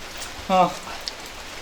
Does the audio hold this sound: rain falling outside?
yes